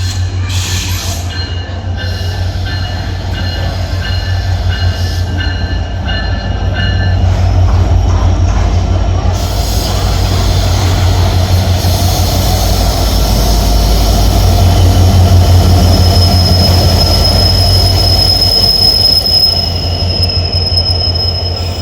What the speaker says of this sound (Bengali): ট্রেনটি আসতেছে খুলনা থেকে।